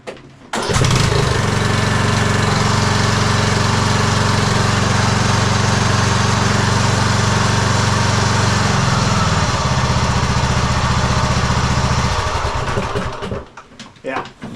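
A tractor engine, freshly fixed of a metal rattle, runs loud and close at a steady idle for about twelve seconds with an even drone, then winds down and stops.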